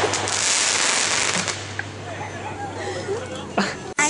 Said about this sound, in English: What would you do if a firework came at you, Holly?